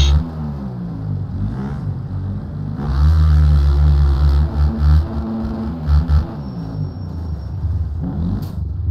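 A motocross bike engine in the MX Bikes racing game, ridden on an MX-1 machine around the Mantua track, revs and drones with a loud, close, harmonic rumble that rises and falls as the throttle opens and eases.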